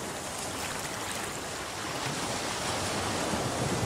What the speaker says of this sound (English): the waves reach almost to the cliff wall